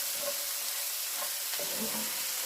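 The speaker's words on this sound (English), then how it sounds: "And stir it around." Tomatoes and cabbage sizzle in a frying pan while being stirred, a steady close crackling hiss with faint scraping touches of the utensil throughout.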